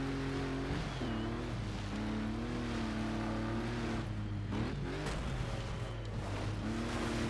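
A Mitsubishi rally car engine in Colin McRae Dirt 2, a constant loud buzzing drone that climbs in pitch, drops briefly at shifts and climbs again, with gravelly road noise underneath.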